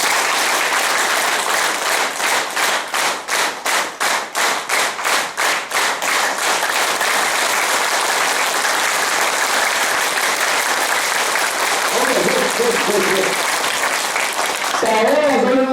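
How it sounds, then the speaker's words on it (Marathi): A large audience claps loudly in Kolhapuri style, starting in rapid rhythmic unison bursts, then swelling into dense continuous applause, with voices rising over it toward the end. "जरा जोर जोरामध्ये कडकडून कोल्हापुरी पद्धतीच्या काय करायच्या टाळ्या वाजवायला सुरू करायचं जोर जोरात"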